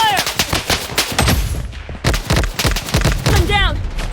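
Rapid automatic gunfire in the mobile shooter Blood Strike during a ranked 4v4 squad fight, dense loud bursts of shots with in-game voice callouts mixed in.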